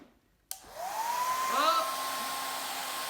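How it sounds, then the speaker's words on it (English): A blow dryer switches on abruptly and blows a steady, loud stream of air at towers built from spaghetti and marshmallows, with a brief exclamation from a voice near the start. "turn the blow dryer on and see which ones can withstand the force of the wind here"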